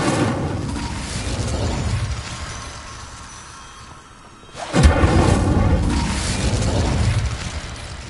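In the Hogwarts Legacy video game, an Incendio fire spell goes off as a sudden heavy boom midway, followed by a roaring, crackling burst of flame; softer rumbling game sounds precede it, with no talking.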